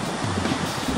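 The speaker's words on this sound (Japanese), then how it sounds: "膝もも程度の波が割れてます" Small knee-to-thigh-high waves break on the Sea of Japan on a light-snow day, a soft broadband wash of surf mixed with wind noise on the microphone, steady over a second.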